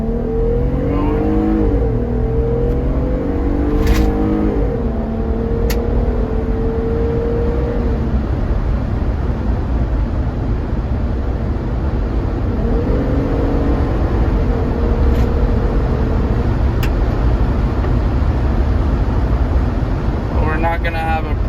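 A supercharged Jeep Gladiator pulls hard at full throttle, a loud sustained engine roar with rising revs and gear changes, rushing road and wind noise underneath and a voice speaking briefly over it early on.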